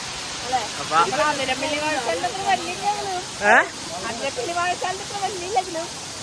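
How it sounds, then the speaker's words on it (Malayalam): A constant rushing waterfall at Vattavada hisses in the background while a person talks over it for the whole stretch. "നല്ല അടിപൊളി ഒരു വെള്ളച്ചാട്ടം ആണ് ഇവിടെ"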